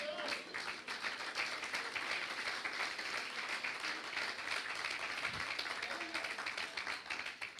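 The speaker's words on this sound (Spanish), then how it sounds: "Dale otra ofrenda de aplauso al Señor" Church congregation applauding as an offering to the Lord during a sermon, a continuous crowd of hand claps at steady strength with faint voices mixed in.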